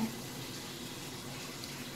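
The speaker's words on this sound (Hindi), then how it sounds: "ये देखिए, इस तरह से इसका सारा पानी निकाल देना है" Water being poured off boiled soybean chunks (soya nuggets) into a bowl: a steady, close, soft rush of draining liquid that continues evenly for about two seconds, with no voices.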